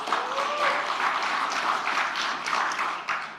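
An audience at a book launch in Indonesia applauds a speech with a short, fairly quiet patter of clapping from a crowd in a hall.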